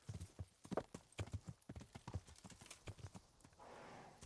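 Horse hooves clip-clopping in a quick, close rhythm in the Kingdom Come: Deliverance video game, with a short whinny near the end.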